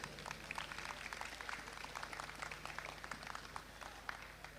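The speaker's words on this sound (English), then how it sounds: "Let's give all our boxers a hand of applause" Spectators applaud the boxers on the final night of the AMBC Caribbean boxing championship, a scattered crowd clapping at a steady rate with distinct individual claps, heard from a distance and fairly faint under a low hum.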